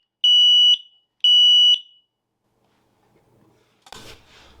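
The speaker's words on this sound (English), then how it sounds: "all the alarms will flash and beep for 10 seconds" Two loud, shrill electronic tones from interlinked smoke alarms, each about half a second long, sound close by one after the other. A faint rustle and a brief clatter follow.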